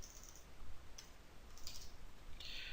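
Typing on a computer keyboard, a few faint, scattered key clicks close by in a quiet room.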